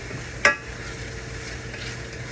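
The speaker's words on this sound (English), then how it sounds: "these mushrooms have started to cook down a little bit in this bacon grease" Mushrooms and turkey bacon sizzle softly in bacon grease in a pan, a steady low frying hiss with one sharp utensil clink near the start.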